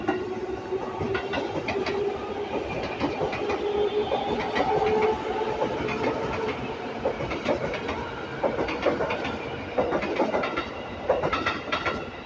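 Train at Jurangmangu station platform, with steady rumbling and clickety-clack of wheels on the rails, a continuous close rolling noise with faint hiss and no talking.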